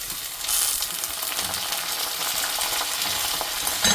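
Garlic and a large piece of ginger fry in very hot oil for a chemballi fish curry, giving a loud, steady crackling sizzle close by, with a brief clatter near the end and no talking.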